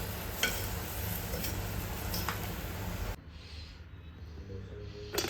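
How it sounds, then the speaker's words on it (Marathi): Soya rice, heavy on soya and light on rice, cooking in a pan over heat: a steady low sizzle with a few light stirring clicks, quiet and close, cutting off abruptly partway through to near silence. "आता मी इथे सोया राईस बनवते"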